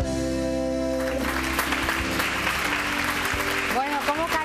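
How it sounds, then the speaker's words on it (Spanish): A television studio audience breaks into applause, a dense steady wash of clapping that holds throughout, with a voice starting to speak over it near the end. "cómo calienta el platón nuestro público aplaudiendo"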